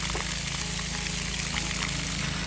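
A strong, steady gush of water pours out loudly and continuously, a dense unbroken rushing with no voices over it.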